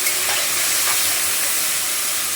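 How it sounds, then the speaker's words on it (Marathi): Tomatoes sauté in a hot pan for paneer bhurji, giving off a steady, bright sizzle and crackle with no voices over it. "टमाटा परतून घेते."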